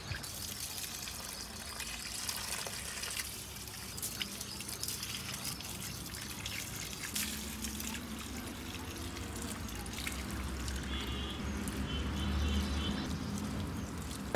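Water poured from a container onto potted house plants at home, a soft continuous trickle and splash that swells louder near the end.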